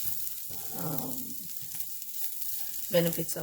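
Bitter gourd frying in a pan, with a steady close sizzle that swells briefly and a burst of stirring or sizzling near the end.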